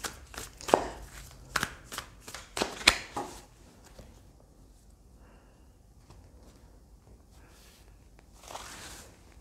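Tarot cards being shuffled and drawn, several quick papery riffles and slaps up close in the first few seconds, then quieter card handling, with no talk over it.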